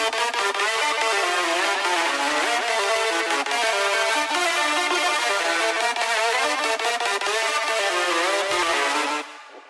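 Layered synth patch with a Platinum Saw noise layer on top, a dense, bright sustained wall of harmonic tones and hiss that plays loud and steady for about nine seconds before cutting off abruptly.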